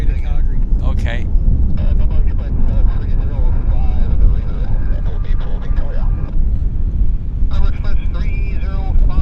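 Air Sprint Embraer Praetor 500 business jet at Vancouver Airport, a steady broadband engine roar that holds loud throughout, with people talking over it.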